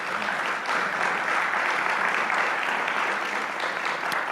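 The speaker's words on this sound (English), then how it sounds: "So let's give a round of applause to all those involved with you." Applause for people in the labor movement, given during a Labor Day weekend gathering, a dense and steady wash of clapping from an audience with no voices over it.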